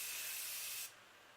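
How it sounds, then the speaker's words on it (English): A cosmetic setting spray mister sprays onto a face in one soft, fine hiss lasting under a second, then cuts off abruptly, close and quiet. "I shake it and I spray it on my face, and the mister on this spray is really, really fantastic"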